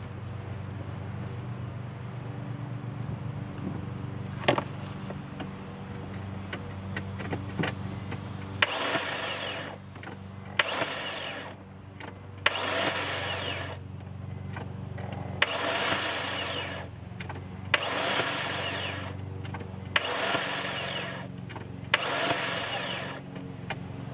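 A 2004 BMW 325i with a suspected compression fault is cranked over several times in a row. Each bout of starter whirring lasts about a second, separated by short pauses, and sits over a steady hum with no one talking.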